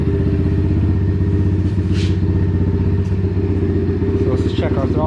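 Apollo DBX18 125cc dirt bike engine idling and running steadily up close, a loud buzzing drone with a slight rise and dip in revs, with brief clatter.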